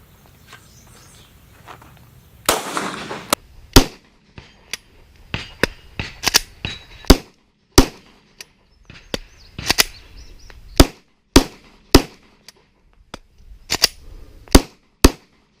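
Sharp pistol shots crack out one after another at an irregular pace during a tap-rack-bang malfunction drill, mixed with clicks and metallic handling sounds between them, with no talking.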